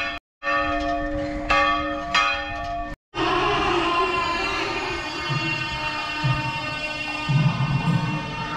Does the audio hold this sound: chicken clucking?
no